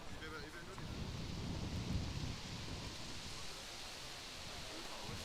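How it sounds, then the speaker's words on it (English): Outdoor wind rushes and buffets the microphone with a broad, steady roar that swells slightly midway and then settles. "As you can see in here, a little bit of wind picking up"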